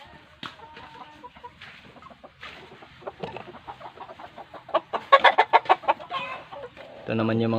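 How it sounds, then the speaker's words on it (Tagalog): Chickens raised for meat cluck and chatter close by, in a busy run of short, irregular calls that grow louder and more rapid toward the end, with a louder squawk at the close. "Ito naman yung mga alaga nating mga manok mga ka-business"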